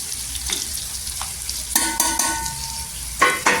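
Garlic and green chillies fry in hot oil for a spicy side dish, a continuous close sizzle broken by sharp spatula clatters and scrapes that grow louder toward the end, with no talking.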